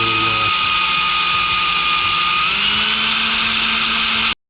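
A loud, continuous whining drill grinds steadily into a metal engine head, its pitch shifting slightly midway before stopping abruptly.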